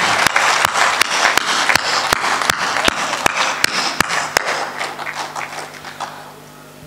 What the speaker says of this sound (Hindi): एक बार आप भी जो सदन में हैं सब तालियां बजा दीजिए